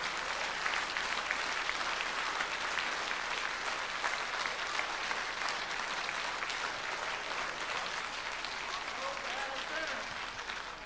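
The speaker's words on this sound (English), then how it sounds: "Everybody on your feet, clap for Maddie for sticking up for you." A standing audience at a planning commission meeting claps steadily for Maddie, a dense even wash of applause with voices murmuring beneath it throughout.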